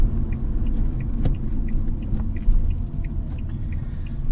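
A Fiat Egea Cross with a 1.4 Fire petrol engine idles and begins pulling away, heard from inside as a steady low engine rumble with faint ticking, close and even throughout.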